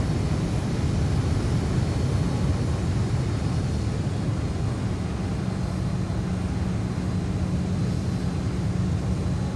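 A Boeing 737 taxiing in X-Plane 11, heard as a steady, even engine drone and hum with a low tonal whine that goes on throughout, with no voices.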